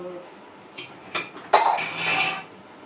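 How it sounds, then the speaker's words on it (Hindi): Dishes are washed in a home kitchen, steel utensils clattering and clinking against each other in a few sharp knocks that build into a brief rattling scrape, close and fairly loud. "और बर्तन धुल देंगे"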